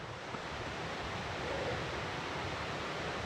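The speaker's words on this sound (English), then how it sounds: "Water coming down the side here." Water running down a hillside beside the Timber Ridge Trail to Carter Gap Shelter, a steady broadband rush at moderate level that continues without a break and carries no talk.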